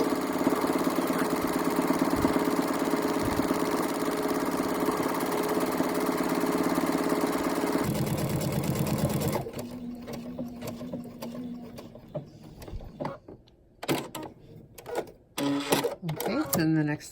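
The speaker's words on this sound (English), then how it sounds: "I'm just going to start my buttonhole." A sewing machine stitching a buttonhole, a rapid, steady mechanical whirr and clatter for about eight seconds that then stops, followed by quieter intermittent handling sounds.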